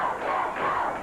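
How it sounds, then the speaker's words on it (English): A 1989 CWA Memphis wrestling arena crowd chants rhythmically in unison, a steady dense roar of many voices with rising and falling swells for about a second, with no commentary over it. "They're chanting, go, Jeff, go."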